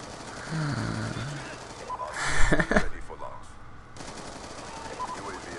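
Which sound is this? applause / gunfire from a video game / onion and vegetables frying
gunfire from a video game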